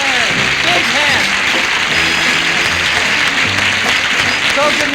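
A television variety show's studio audience claps in a dense, steady applause that stays loud and even throughout, with a few cheering voices and a host's voice rising over the crowd at moments.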